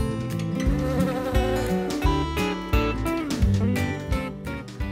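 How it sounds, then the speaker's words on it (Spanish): Bees work flowers gathering pollen in Valle de Guadalupe, Mexico, a close, loud buzzing drone that swells and pulses rhythmically throughout. "Ahora abejas trabajando, entonces están sacando de polen."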